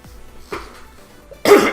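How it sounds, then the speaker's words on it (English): A man gives a few short coughs and throat clears close to the microphone while playing a truck driving game, with quiet gaps between them and a louder, harsher burst at the end. "at the minute I'm just trying to clean my throat out"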